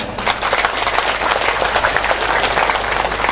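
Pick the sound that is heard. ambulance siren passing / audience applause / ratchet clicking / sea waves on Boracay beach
audience applause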